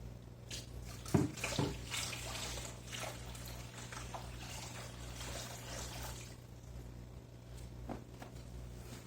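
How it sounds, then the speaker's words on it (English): Water pours and splashes onto a strainer during a frog paludarium water change, in a steady wash, with a few louder gurgles early on over a low background hum. "And then you can pour it right onto the strainer."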